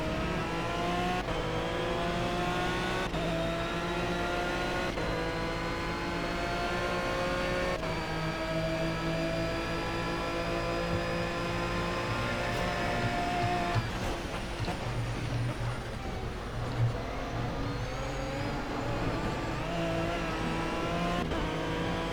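Aston Martin V12 Vantage GT3 in a racing game at Le Mans, its V12 engine revving steadily upward through the gears with a brief drop and pickup, loud and continuous with no talk.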